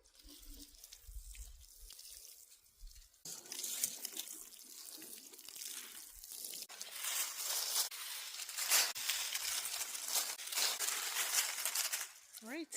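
Water pours and splashes steadily onto soil over newly planted garlic, starting after a short pause and continuing loudly to the end, with faint talk at the start.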